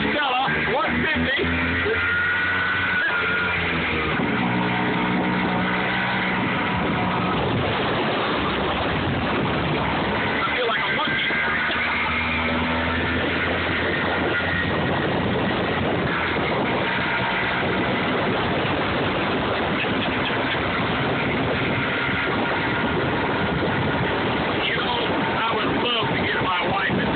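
Stella 150 scooter with sidecar running under way, a continuous small-engine buzz mixed with wind buffeting, with people talking over it throughout.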